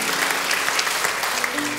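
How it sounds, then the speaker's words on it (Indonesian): A church congregation gives a burst of dense, steady applause during a service, with a voice audible beneath the clapping. "Berikan tepuk tangan bagi Tuhan kita."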